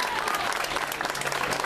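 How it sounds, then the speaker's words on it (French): Crowd applauding at a prize ceremony for a French village radio singing contest, a brief burst of dense clapping with some voices mixed in. "On l'applaudit très très fort, petit Ronan."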